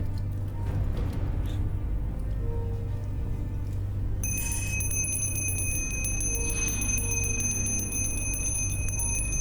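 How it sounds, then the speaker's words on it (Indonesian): A small bell rings in rapid repeated strikes, bright and metallic, shimmering over a steady low engine-like hum for about five seconds. "Kamu perlu lonceng? Perlu lonceng."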